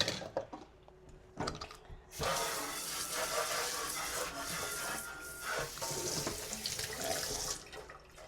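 Kitchen faucet water pours into a sink for washing, a steady splashing hiss after a few brief clinks and drips at the start, quiet and close, with no voices.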